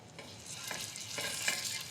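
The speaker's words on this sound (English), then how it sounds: "That beautiful sizzle and crackle is what we need, so we're not going to stew the bones, we're going to sear them" Veal neck bones frying in hot oil in a pan give off a steady, close sizzle and crackle, with small pops breaking through the continuous hiss, and no one speaks over it.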